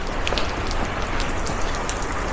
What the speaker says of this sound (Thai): ฝนมันลงค่อนข้างแรง